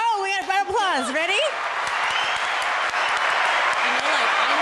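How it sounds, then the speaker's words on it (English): A round of applause breaks out right after a short burst of speech, then dense, steady clapping fills the rest of the stretch at an even, fairly close level. "oh, we got a round of applause."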